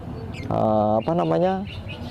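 A lovebird sings a short harmonic song phrase of about a second, split by a brief break, clear and close against quiet room noise.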